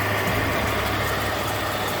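A 2010 Lexus RX350 runs with its AC compressor clutch engaged and the cooling fan spinning, giving a steady, loud whooshing blow over a low engine hum, constant throughout with no talk.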